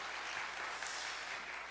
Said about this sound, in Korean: 우리 큰 박수로 우리 환영하고 축복하겠습니다